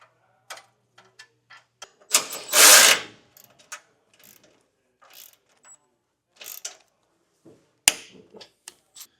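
A ratchet wrench clicks on bolts while installing an ARB skid plate on a 2015 Toyota 4Runner, with bursts of close ratcheting, metallic clicks and a rustling scrape between quiet gaps.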